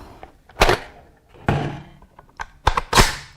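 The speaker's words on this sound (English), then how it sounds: "you have to release this, you have to drop your mag" A Steyr AUG A1 bullpup rifle's magazine is released and drops out, giving a few sharp, close plastic-and-metal thunks and clacks spread over a few seconds with no talking.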